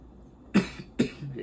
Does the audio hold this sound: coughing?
yes